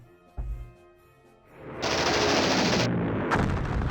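Machine gun fire from fighter planes attacking bombers in a Battle of Britain strategy game rattles in two dense bursts, loud and continuous, after a quieter opening with a single low thump.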